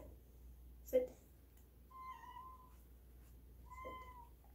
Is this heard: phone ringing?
no